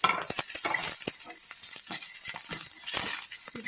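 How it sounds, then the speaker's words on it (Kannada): Red and green chillies, garlic, tamarind and curry leaves fry in a pan, giving a steady close sizzle. Scattered clinks and stirring scrapes of a spoon against the pan run through it, with no talk. "ಇದೆಲ್ಲ ಹಾಕಿ ಒಂದು ಸಲ ಫ್ರೈ ಮಾಡ್ಕೊಳ್ಳಿ."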